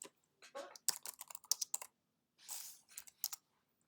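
Placeholder text typed on a computer keyboard in Google Slides: quick, close clicking keystrokes in two bursts separated by a short pause, with no talking.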